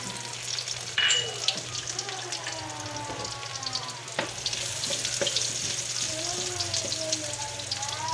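Garlic fries in a pan for pinakbet, a continuous crackling sizzle with a steady low hum underneath, scattered utensil taps, and a voice talking over it in places.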